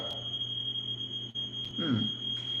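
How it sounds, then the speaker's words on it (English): A kitchen smoke alarm beeps with a steady high-pitched electronic tone, with a short chirp and a faint low voice under it. "fire alarm, but usually it doesn't mean anything."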